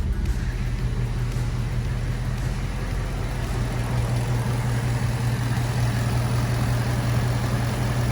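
An S550 Ford Mustang with 16,000 miles idles steadily up close, a low, even engine hum that holds without change and has no talk over it.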